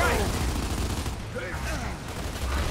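Gunfire in the video game Gears of War 2, dense rattling bursts of weapon fire under a busy co-op game mix, loud and continuous with a brief dip midway.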